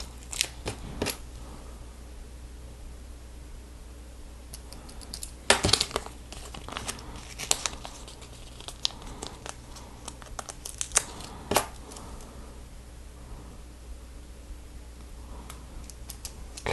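Crinkling and tearing of a Lego sticker sheet during a build of the Ultra Agents Stealth Patrol set #70169, with quiet scattered rustles and a few sharper peel or crinkle bursts near and close, no talking.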